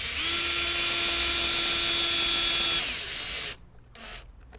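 A cordless power drill drives a screw into a wooden Vegtrug planter joint: a close, loud high whine holds steady for about three seconds, then cuts off abruptly, followed by a brief faint whir.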